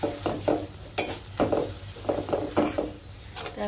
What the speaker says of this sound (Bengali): তো এখন এই মশলাগুলো কষিয়ে নেব।